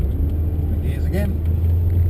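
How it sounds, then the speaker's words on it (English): A VE Commodore ute with a 4L80 transmission and manualised valve body runs with a steady, close engine drone that holds a low, even pitch through the short stretch. No gear change is clearly marked. "Turn around and I'll come up through the gears again."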